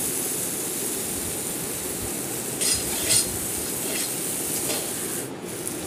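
Masala is stirred and roasted in a pan, a continuous soft scraping and rubbing with a faint sizzle and a few louder spoon scrapes.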